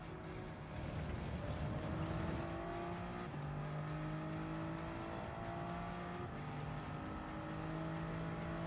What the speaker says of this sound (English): you can hear those tires screech